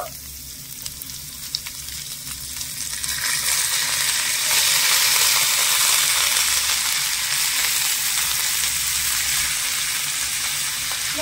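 Shredded cabbage fries and sizzles in a pan as it is stirred, a steady broadband hiss that swells louder after a few seconds with occasional scraping, no voices.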